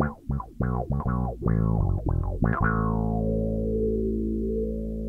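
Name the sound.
passive P-bass through 3Leaf Audio GR2 envelope filter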